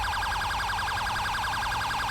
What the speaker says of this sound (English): Alright, enough sirens.